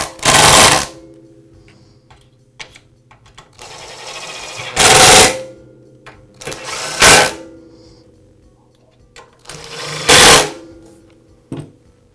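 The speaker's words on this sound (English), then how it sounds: "then I'll finish them up with an impact driver" A cordless impact driver drives the motor housing screws on a DeWALT chop saw during an armature bearing repair: four loud, close hammering bursts of about a second each, separated by quiet gaps with small handling clicks.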